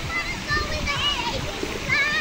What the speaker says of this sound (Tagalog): Yan, slide na si Maymay